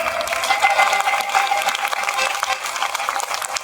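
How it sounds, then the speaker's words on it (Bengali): An audience claps together in a steady, dense burst of applause, loud and close, with no voices standing out above it. "চলো জোরে সবাই মিলে একবার তালি দাও"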